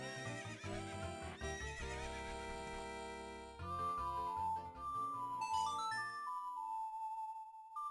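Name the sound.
horse neighing in The Legend of Zelda: Ocarina of Time video game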